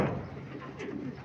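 A racing pigeon coos on arrival at the loft during a summer race in Cavite, one brief, close, throaty coo over low rustling background.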